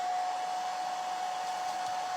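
A hair dryer runs steadily and close, drying paint on a wooden quilt block, its even whooshing airflow carrying a faint high whine throughout with no talking.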